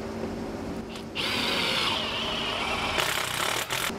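Power tool punching a hole in a metal sign, a loud whining grind that starts abruptly, holds steady for a couple of seconds, then cuts out and returns in short bursts near the end.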